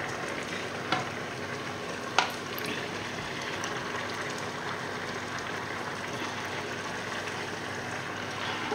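Salmon risotto mixture sizzles steadily in a hot pan, a continuous frying hiss with soft stirring and a couple of faint clinks, no talking.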